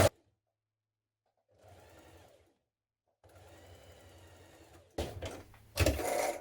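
Sewing machine stitching a coat facing to the front edge, running in short bursts separated by silence, a soft whirring motor that grows louder and busier in the final seconds with handling clatter.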